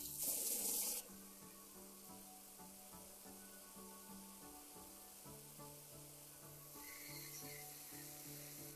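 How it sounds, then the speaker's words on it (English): Cold water runs from the faucet of an Arctic Fox 865 truck camper with a hissing splash, louder at first, then a softer steady trickle under a low hum. "We're going to turn the cold on and make sure we get all the water out of the cold."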